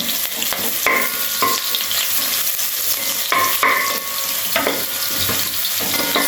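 Onions frying in hot coconut oil with a loud, steady sizzle, broken by several bursts of scraping and clattering as they are stirred in the pan.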